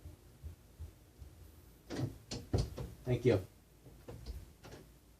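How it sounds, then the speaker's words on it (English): A child shuts a bedroom door at home: a cluster of dull wooden thumps and knocks in the middle of the stretch, with quiet room noise around and a person speaking briefly. "Shut my door."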